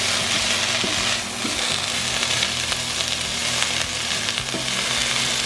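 Spinach sautés in a pan for a crustless quiche, a dense continuous sizzle with occasional stirring knocks, close and loud with no speech.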